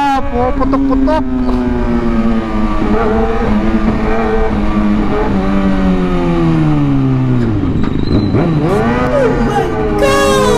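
Kawasaki ZX6R motorcycle revving hard on a public road, a loud close engine wail that rises and falls with sharp throttle blips and crackling exhaust pops, while a rider talks excitedly over it.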